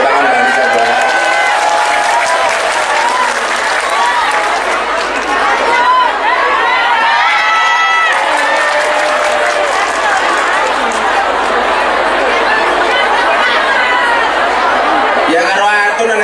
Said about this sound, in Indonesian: Tepuk tangan Mbak Anissa Bahar.